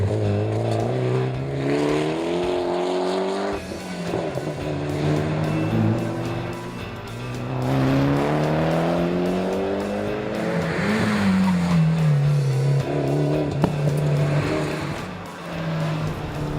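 A Mitsubishi Evo rally car on Hankook tyres screams through a Targa tarmac stage in Tasmania, its engine revving up and down through gear changes with tyre squeal, loud and continuous.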